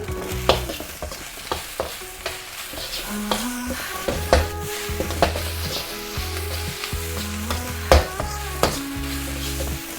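Rice sizzles steadily in a hot wok while a utensil stirs and tosses it, with occasional sharp metallic clanks against the wok.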